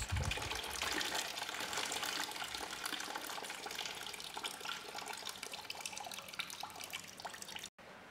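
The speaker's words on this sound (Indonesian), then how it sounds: "buka tutup air radiator agar air radiator terbuang lebih deras" Coolant water drains steadily out of an opened radiator, a continuous splashing gush with dripping, moderately close, with no talking.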